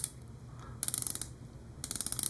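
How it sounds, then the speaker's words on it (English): Two quick bursts of rapid, fine metallic clicking from a 120-click diver watch bezel being turned, close and crisp over a low background hum. "Apart from the ceramic insert, you're also going to get a 120 click bezel. So let's hear it."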